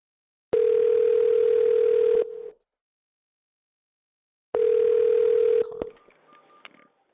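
Outgoing telephone call to a car dealership, two long steady ring tones separated by a silent gap, the second cutting off into faint line noise as the call connects.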